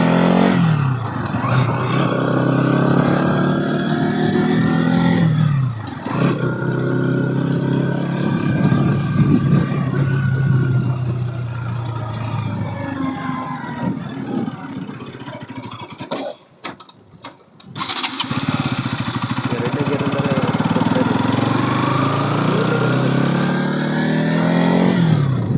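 A motorcycle engine drones while riding, rising and falling with repeated revs and gear changes, loud and close, with a brief dip near the middle before the steady ride resumes.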